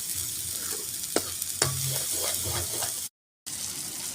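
Tomato masala with turmeric and garam masala sizzles steadily in a pan, close up, with a few sharp stirring scrapes. Near the end it breaks off in a short silence before the sizzle resumes.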